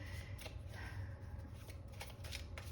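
Tarot cards being riffled and shuffled by hand, a steady soft papery rustle with a few crisp snaps, close and quiet, no one speaking.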